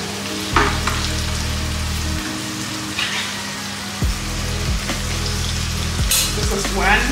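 Tomatoes sizzle and fry loudly in a hot pan for a turkey gizzard bell pepper sauce, a steady close crackle with occasional stirring scrapes and a low hum underneath.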